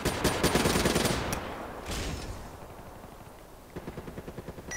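Rapid automatic gunfire in a Black Ops 3 multiplayer match, a loud dense burst at the start, a second shorter burst, then a fainter run of evenly spaced shots at the end.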